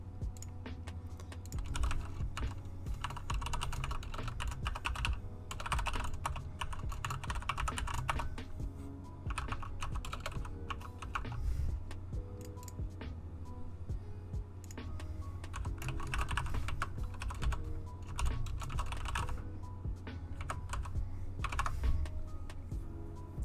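Steady, fast computer keyboard typing while entering code in Roblox Studio, with close, continuous key clicks over a low background hum, no talking.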